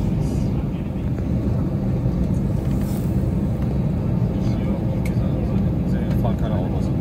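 An airliner on a Hamburg–Mallorca flight taxis to the gate in Mallorca, heard from inside the cabin as a steady, loud, broadband engine and cabin rumble that holds evenly throughout with no break.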